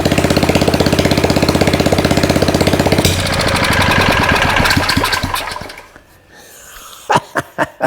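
A small old generator engine runs on fuel with loud, rapid chugging, then its rhythm loosens and it dies away, followed by a few sharp knocks close by.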